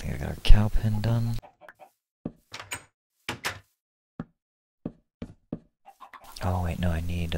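Chickens in Minecraft give short, sparse clucks scattered through a quiet stretch, with a person talking before and after.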